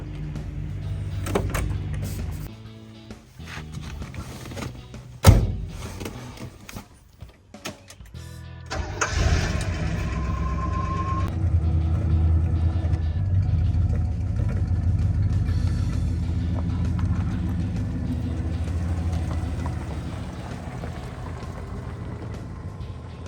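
An old car from a fleet of vintage vehicles starts up and is driven, its engine running steadily at close range after a few clunks and door or window sounds, with no talking.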